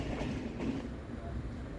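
Passenger train with a single diesel locomotive pulling into a platform at Calicut station in the evening, heard from inside an unreserved second-class coach as a steady, close rumble of wheels and carriage with faint voices.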